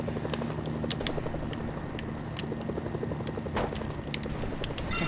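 Helicopter from the game Mercenaries: Playground of Destruction, a steady droning rotor and engine hum that holds at one level throughout, with faint clicks and game effects layered over it.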